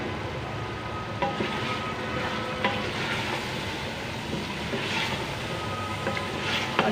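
Whole spices, a black cardamom and a cinnamon piece, fry in a pot of meat for matar gosht, giving a steady close sizzle with occasional stirring clicks throughout.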